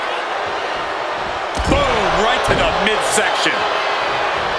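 Wrestling arena crowd on Friday Night SmackDown roaring steadily in the background while a commentator talks excitedly over it, with a sharp slam-like impact partway through.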